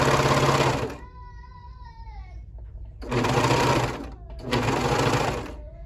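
A Brother coverstitch sewing machine stitches in two loud, steady bursts of about a second and a half each, with a short quieter pause between them where faint handling and a thin whine remain.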